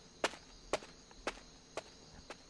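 Footsteps shuffling up a staircase past midnight, five evenly spaced soft thuds about half a second apart, close and alone in a quiet space.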